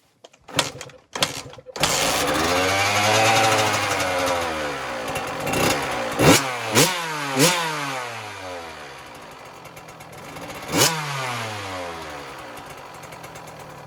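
A motorcycle that sat unused for eight months, now fitted with a new spark plug and wire, starts after a few clicks and runs with a rough, close engine note that rises in several short revs before settling to an uneven idle.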